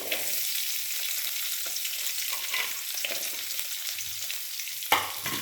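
Shallots and garlic sauté in hot oil for a Tamil beetroot chutney, a steady close sizzle with occasional soft stirring scrapes and a sharper clatter near the end, no voices.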